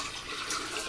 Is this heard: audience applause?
no